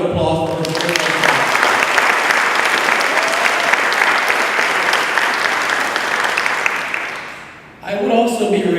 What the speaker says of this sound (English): if you could give you guys, call it a round of applause for this great success.